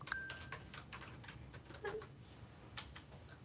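Typing on a computer keyboard indoors at a home desk, a quiet scatter of soft, uneven key taps with small pauses, close and faint, with no talking.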